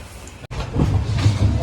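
Passenger train bound from Bhavnagar to Haridwar, a steady close rumble inside a coach with a brief dropout near the start, then the low rolling noise grows louder.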